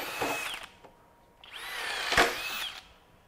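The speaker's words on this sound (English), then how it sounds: "So 2 9/16 inch bit going through pressure treated 2x4." A FLEX 24V hammer drill drives a 2 9/16 inch bit through a pressure-treated 2x4 in two whining bursts, the second longer and louder, with a brief pause between them, close up.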